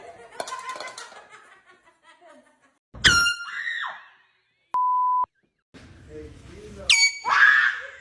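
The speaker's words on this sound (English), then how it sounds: "Air horn pranks make the scares so funny." Two sharp, loud air horn blasts go off in a scare prank, each followed by startled screams and laughter. Faint talk comes before them, and a short electronic beep sounds between the blasts.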